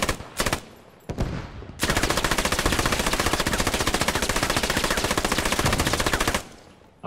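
Automatic gunfire in the World War II shooter Post Scriptum: a few sharp separate shots, then a long sustained machine-gun burst of rapid, evenly spaced rounds lasting several seconds, loud and close, with no talk over it.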